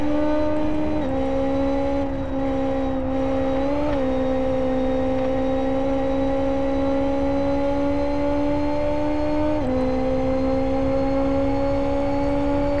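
Formula BMW race car engine from the Live for Speed racing game droning steadily at high revs, pitch dipping briefly with gear changes, loud and continuous with no talk.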